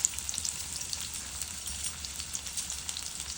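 Onion, two dried red chillies and crushed garlic frying in oil for a lentil dal tempering, heard as a faint, steady, fine-grained crackling hiss with small pops throughout.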